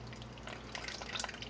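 Water runs from a sink tap into a pot while chocolate sauce is being made, a steady close splashing and trickling with no talking.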